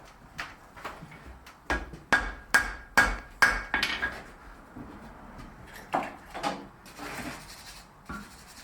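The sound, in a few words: hammering a forge weld on wrought iron dividers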